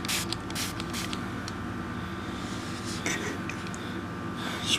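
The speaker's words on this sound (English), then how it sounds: "So the outside, we're just going to spray down the barrel." Several short, close hissing spray bursts of cleaner onto a gun barrel at the start, then another brief spritz later, over a steady background hum.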